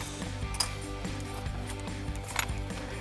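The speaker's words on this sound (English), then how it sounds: "I'm going to throw my ratchet on the other side and snug it up" A ratchet clicks in quick, faint repeated bursts while snugging a spark plug on a 2007-2013 V8 Silverado 1500 during a tune-up, with small metallic clinks between strokes and no voices.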